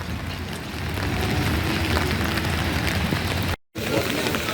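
Steady rain hiss with a low rumble runs throughout at an outdoor market, fairly close and continuous, broken once by a brief moment of silence.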